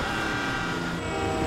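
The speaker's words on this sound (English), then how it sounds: "Beat the train, man!" Train rushing past with its horn sounding in the GTA 5 video game during a police chase, a loud, steady rumble of rail noise with a sustained horn tone throughout.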